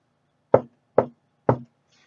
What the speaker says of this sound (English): And then walks down the hall and then knocks on a door.